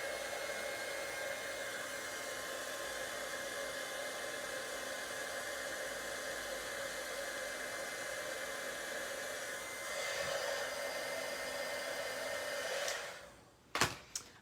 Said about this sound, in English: Okay, let's heat set this.